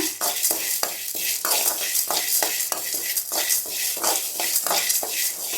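Chana, urad and toor dal dry-roasting in a pan over a medium flame, with a steady dry sizzle and a rhythmic, repeated scrape of a spatula stirring the lentils, close and loud with no talk.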